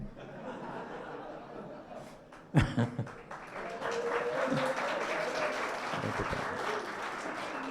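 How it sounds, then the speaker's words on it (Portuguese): Studio audience applause at a televised political discussion, a dense patter of clapping rising after a brief burst of chuckles and a sharp clap, continuing steadily at moderate level to the end. "Obrigado pelas palmas, que me envaidecem de sobremaneira. Insistam, insistam."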